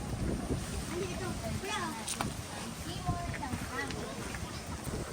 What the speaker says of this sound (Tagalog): Lakas ng hangin, Andres!